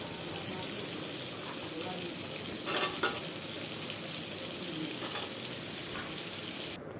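Pumpkin, eggplant and drumstick vegetables sizzle steadily while being stirred in a pan, with a couple of brief scraping bursts of the spoon midway; close and continuous, with no talk.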